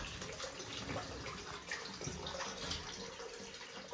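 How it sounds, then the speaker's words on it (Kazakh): Deer antler broth pours into a bath at a health resort in Katon-Karagay, a soft, continuous trickle and splash of liquid heard faintly with no speech. "Бұғының мүйізінен сорпа ағып келеді"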